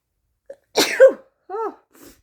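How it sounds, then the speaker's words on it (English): A single loud, sharp sneeze with a brief inhale before it, followed by a short sniffle-like vocal sound. "Another sneeze."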